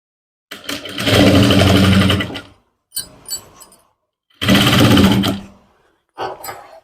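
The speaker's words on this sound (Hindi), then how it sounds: "उसी के ऊपर एक सिलाई और लगा देंगे चैन की सिलाई के बिल्कुल सीध में" A sewing machine stitches trousers in two loud, close bursts of rapid mechanical whirring, each about two seconds long, separated by short pauses with lighter clicks and brief runs of the machine.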